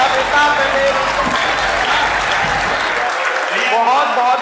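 Audience applause after a comic Hindi poetry recitation, a dense sustained burst of clapping that fills the room loudly, then thins toward the end as a few hands keep going.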